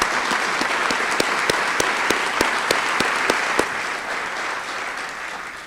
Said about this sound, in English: join with me in a round of applause and thanks for these individuals